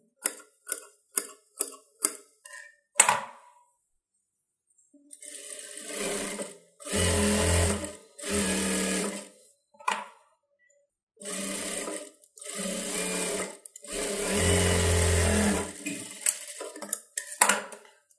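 A sewing machine running an edge stitch along blouse lining, in several separate bursts of steady whirring, preceded by a series of sharp clicks and taps, close and fairly quiet with no talk.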